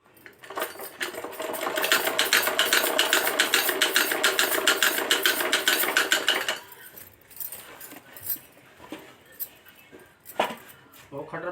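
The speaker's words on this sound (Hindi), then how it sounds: "अब हम यहाँ पर गोलाई में सिलाई लगा" A sewing machine runs in one fast, steady burst of stitching as it sews a curved seam in underwear fabric, then stops, leaving light handling clicks and faint rustles.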